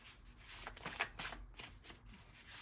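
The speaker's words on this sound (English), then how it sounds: "I'm going to do a little shuffle and see what want to pop out" Tarot or oracle cards being shuffled by hand for a pick-a-pile reading, a steady soft riffling and slapping of cards, close and fairly quiet.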